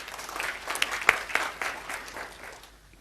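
A church congregation applauding during a sermon, scattered clapping with a few sharp individual claps standing out, rising then gradually thinning and fading toward the end.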